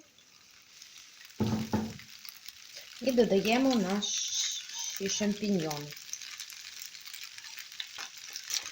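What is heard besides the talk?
stirring food frying in a pan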